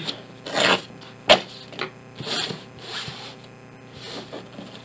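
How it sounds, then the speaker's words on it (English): Pattern paper being torn by hand, heard as soft crinkling and ripping rasps in uneven bursts over a quiet background, with one sharp snap partway through and no talking. "And then maybe just tear it off at the bottom."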